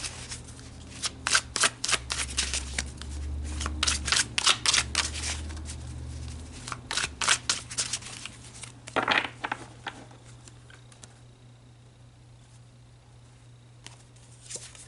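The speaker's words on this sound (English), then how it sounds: "let's get these cards shuffled" A deck of tarot cards being shuffled by hand, quick rustling bursts of riffled cards that come and go, then tapering into near quiet toward the end.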